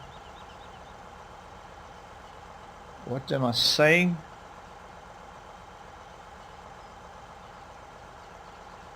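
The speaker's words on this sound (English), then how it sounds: "Start engine first." A harvester engine idling in a farming game: a steady low mechanical hum throughout, briefly under a short spoken phrase from a man.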